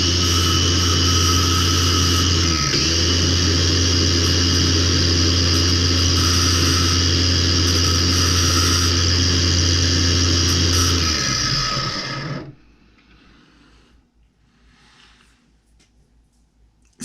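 An electric bench grinder deburrs an RC car drive shaft, giving a loud steady whine that runs for about twelve seconds, then cuts off and spins down into quiet.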